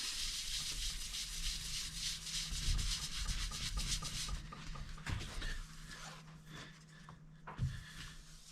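Shop towel rubbing sticky residue off with Goo Gone, a steady close scrubbing and wiping that runs continuously, then slows into a few separate strokes.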